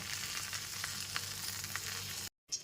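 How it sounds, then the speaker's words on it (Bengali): Pointed gourd (potol) pieces fry in hot oil, giving a steady close crackling sizzle with small pops. The sound cuts off abruptly near the end, then a brief clatter follows. "পটলগুলো একটু সময় নিয়ে লাল করে ভেজে নিয়েছি এবার সমস্ত পটলগুলোকে তেল থেকে তুলে নেব"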